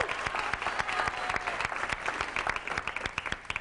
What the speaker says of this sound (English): Yeah, go ahead and applaud.